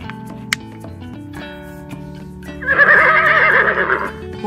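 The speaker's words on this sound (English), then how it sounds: "Horse" A horse whinnies loudly near the end, a shrill wavering neigh lasting over a second, from a wooden farm animals puzzle, heard over a steady background tune with a sharp tick early on.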